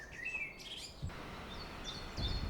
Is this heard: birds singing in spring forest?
yes